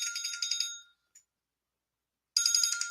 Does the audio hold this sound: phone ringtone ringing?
yes